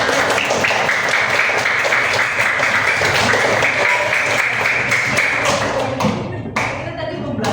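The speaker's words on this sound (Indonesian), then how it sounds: "Terus tepuk tangan dulu untuk kita semua." A classroom of young learners claps hands together after a teaching performance, a dense, loud patter of many small hands that fades out toward the end, with some voices mixed in.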